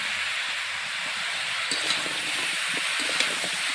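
Eggplant leaves dropped into a hot pan with cumin and turmeric powder set off a loud, steady sizzle and hiss that swells a little after the first moment and carries on alone.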